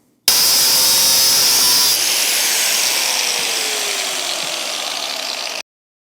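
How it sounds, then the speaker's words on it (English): A power tool cuts through the welds on a steel chainsaw bar tip with a loud, harsh, continuous grinding screech. It starts abruptly, holds steady for about five seconds, eases slightly partway through, and stops sharply. "I'm just going to cut this thing across here, get these two welds off"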